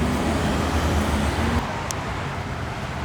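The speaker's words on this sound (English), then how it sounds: "we gotta cross double lane traffic" Steady roadway noise from cars on a busy double-lane road, a continuous broadband rush of passing vehicles heard up close, with a slight easing in the second half.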